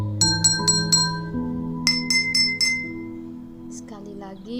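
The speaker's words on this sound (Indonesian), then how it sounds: "di sini saya siapkan sendok untuk memukul kedua gelas ini untuk mendengar bunyi yang dipantulkan" Metal spoon tapping a drinking glass filled to the brim with water, several bright ringing clinks in two quick bursts, close up, with sustained tones lingering between strikes.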